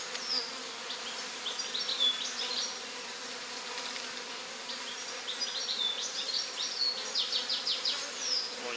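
Honeybees buzzing at an apiary hive during a heatwave, a steady, dense hum of many insects close by with louder passes of individual bees.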